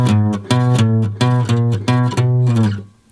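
A distorted electric guitar chugs a chordal rock riff from an 1980s-style pattern, with rhythmic repeated chord hits in a steady pulse, loud and close, fading out on the last stroke.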